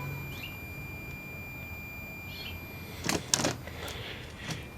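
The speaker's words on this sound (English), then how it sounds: "you can hear the oscillator in it running. Runs at about 2 kilohertz." A 1945 R-100/URR U.S. military three-band shortwave receiver hums with its internal oscillator, running at about 2 kHz. The steady, thin, faint tone sits under a hiss of static, with a few soft clunks and rustles near the end.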